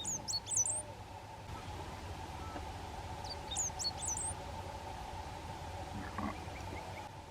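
A great pampa-finch forages among leaves in winter pampas grassland, giving two quick bursts of thin, high chirps separated by a few seconds over a faint, steady outdoor hush.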